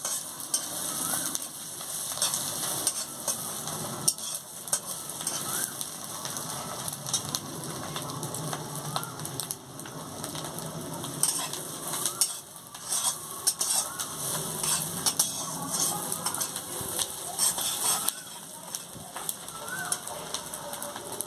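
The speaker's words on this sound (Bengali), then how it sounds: "দিয়ে ভালো করে ভেজে নিচ্ছি।" Ginger paste fries in a pan for a shrimp malai curry, a close steady sizzle with frequent scraping stirs and light clinks of the spatula against the pan.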